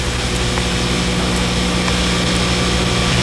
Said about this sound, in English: Now here's where the small sanding drum really comes in handy.